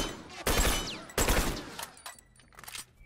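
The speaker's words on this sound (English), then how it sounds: "I'm being shot!" Rapid bursts of gunfire in The Last of Us Remastered, two loud volleys of shots crackling close by, then fading into quieter scattered noise.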